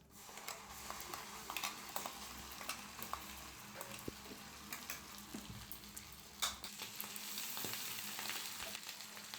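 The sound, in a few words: ground spice paste frying in butter and oil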